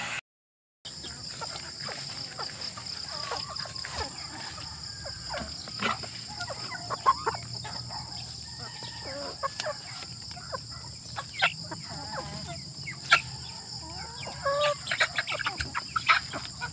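Chickens cluck and squawk in a scattered chorus while being fed a home-mixed feed, with many short calls layered over steady background noise at moderate distance.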